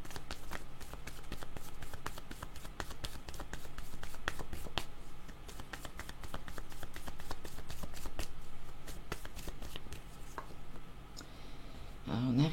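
A deck of oracle cards is shuffled steadily, a rapid run of crisp riffling snaps and papery flutters close by, repeating without pause and ending in a brief soft rustle.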